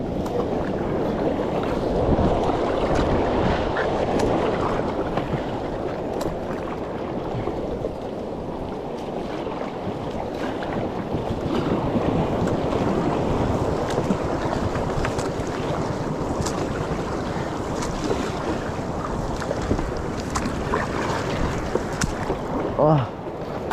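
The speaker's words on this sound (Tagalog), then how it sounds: "Maalon mga kapit. Kailangan tayo makatabi doon. At maalon. Agos." Rough sea churns around a small boat, a constant wash of waves and wind buffeting the microphone throughout, with occasional voices faintly under the noise.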